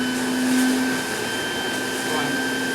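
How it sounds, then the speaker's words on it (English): A TP18SX cleaning machine's vacuum motor runs with a loud, steady whine and hum close by, holding constant throughout. "You just turn your vacuum on for you."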